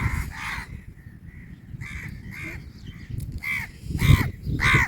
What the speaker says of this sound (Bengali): মাঝে মধ্যে কাক সহ বিভিন্ন পাখিদের শব্দ শোনা যায়।